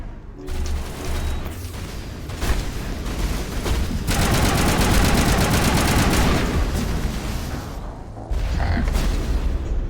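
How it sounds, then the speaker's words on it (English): Sustained assault rifle fire in the Mass Effect Legendary Edition video game on PS4, dense rapid shots with booms and mechanical clatter, loud and continuous with brief gaps. "Still doing pretty shitty with this assault rifle"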